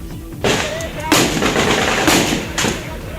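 Gunfire during an armed encounter between security forces and militants holed up in a burning house: loud, heavy bursts of blasts repeat every second or so over continuous crackling noise and rumble.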